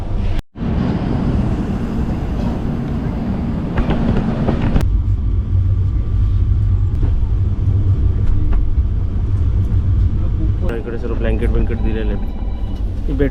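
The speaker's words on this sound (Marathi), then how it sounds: "हा दोन दिवस चंदीगडला जाते गाडी" A passenger train travels toward Chandigarh, giving a steady low rumble and rolling rattle from inside the carriage that continues throughout, with a shift in tone midway and people talking over it.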